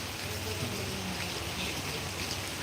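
Steady rain falls in Panthavada, a dense even hiss of drops spread across the whole stretch with no distinct breaks, moderately faint and continuous.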